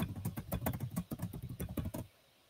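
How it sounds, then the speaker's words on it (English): Rapid bursts of keystrokes on a computer keyboard while a password is entered, about two seconds of quick, irregular clicking close to the mic, then silence. "I'll just type in and my password"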